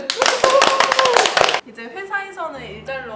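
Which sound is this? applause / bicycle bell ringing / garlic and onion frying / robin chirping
applause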